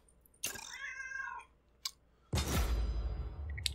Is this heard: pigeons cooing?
no